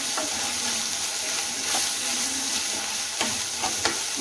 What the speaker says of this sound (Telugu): ఇప్పుడు ఇది బాగా మనకి ఫ్రై అవ్వాలండి ఒక 5 మినిట్స్ అన్న మనం ఇలా చేసుకుంటూ ఉండాలి